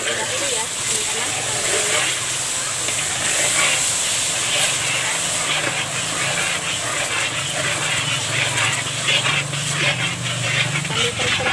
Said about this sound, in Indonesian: Sekarang kita akan masukkan aja santan kelapanya yang udah kita peras tadi.